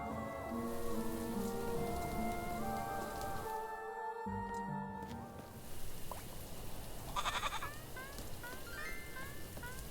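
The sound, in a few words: rain falling, video game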